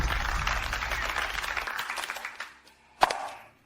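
An audience claps to welcome the bride at a wedding-like ceremony in a dubbed drama, a steady wash of applause that fades out, followed by a single sharp slap near the end.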